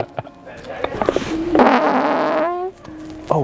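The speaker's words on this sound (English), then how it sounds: "You farted?" A loud, drawn-out human fart rips for about a second, wet and buzzy, framed by short bursts of voices just before and after.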